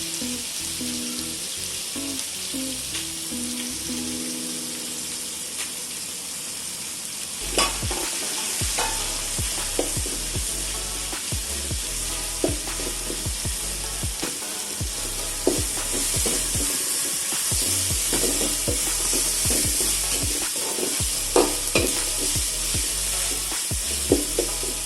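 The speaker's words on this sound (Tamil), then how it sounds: "இந்த டைம்ல நம்ம வரமிளகா போட்டுக்கலாம்." Dry red chillies fry in oil in a village-style pan for chicken chinthamani, giving a loud continuous sizzle with stirring scrapes and clinks, no voices.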